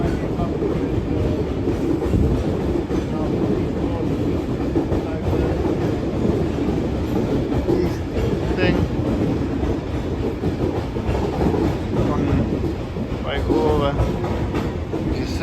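A train rumbles steadily through Carlisle station, a continuous loud close rolling roar with rhythmic wheel clatter throughout and faint squeals near the end.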